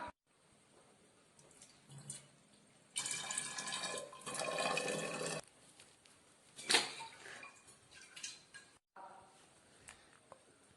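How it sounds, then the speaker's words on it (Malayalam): Hot water poured into a bottle to rinse it, a few seconds of steady splashing and gurgling, then sloshing, drips and handling clinks with quiet pauses between. "ആദ്യമായി ഈ കുപ്പി ചൂടുവെള്ളം ഒഴിച്ച് കഴുകാം"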